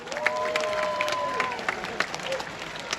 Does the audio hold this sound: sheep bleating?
no